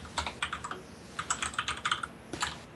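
Someone types on a computer keyboard at a desk during a gaming podcast, with quick bursts of clicky keystrokes separated by short pauses, moderately close and alone with no talk.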